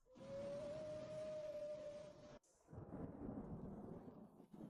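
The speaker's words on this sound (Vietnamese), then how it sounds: "Bão đến rồi, quay tàu thôi." Thunder of a storm approaching at sea, a long low rumbling roll with a steady tone running through it, then a sudden cut to a softer continuous wind-and-rain rumble, heard alone without talk.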